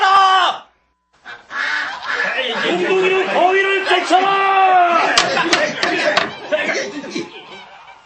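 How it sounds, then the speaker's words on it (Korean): Several geese honk and cackle in a busy, overlapping flurry, close and loud, with sharp slaps and scuffling mixed in, set as an audiobook sound effect for a farmyard scene. "인간들은 몽둥이로 쉽게 거위를 쫓아냈다."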